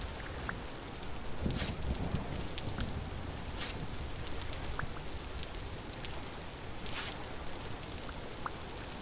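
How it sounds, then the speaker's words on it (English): Steady rain falls in the survival video game Vintage Story, a soft continuous patter with occasional brighter drops and faint swells, quiet and unbroken throughout. "Is the rain going to be annoying or should we move?"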